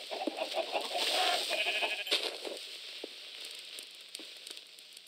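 Sheep bleat in a modded Minecraft game, a few nasal bleats over a busy hissing game background, fairly loud and close with no talk.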